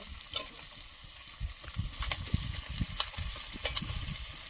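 Roe-filled fish sizzles and crackles in hot oil, with irregular pops and soft scraping in the pan.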